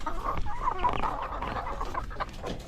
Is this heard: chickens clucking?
yes